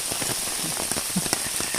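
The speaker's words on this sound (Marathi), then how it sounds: "तुफान पाऊस चालू झालाय" A fine, steady drizzle falls outdoors on an open plateau, making a continuous dense patter with scattered individual drop taps. It sounds close and even, with no voices.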